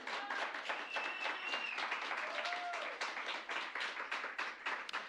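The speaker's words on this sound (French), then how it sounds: "Moi, je pense que ça mériterait peut-être une acclamation" Steady applause fills a church service, the congregation clapping in a fairly even, moderately loud wash, with a few raised voices and whistles riding briefly above the clapping.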